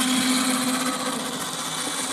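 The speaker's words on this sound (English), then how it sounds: "You can tell that by the grunt of the motor" A motor grunts under load at a beehive while handling honey frames, giving a steady, close, rough droning hum with no talk.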